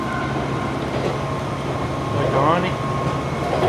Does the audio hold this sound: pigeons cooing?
no